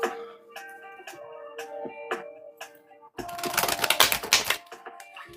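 A thick deck of cards is handled and shuffled, first a series of separate crisp clicks and snaps, then a dense, loud riffling burst lasting over a second before it stops.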